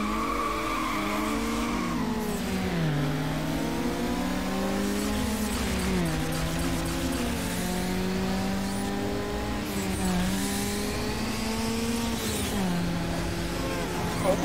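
Race cars in Need for Speed Underground: loud, close engines whine and climb through repeated gear shifts, with tire squeals layered over a constant roar.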